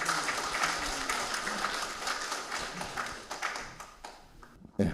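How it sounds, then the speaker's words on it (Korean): An audience at an academic lecture on Mukjae Yi Gwi and Yulgok philosophy claps steadily, a dense wash of applause filling the hall for several seconds before tapering off near the end. "큰 박수로 맞이해 주시기 바랍니다"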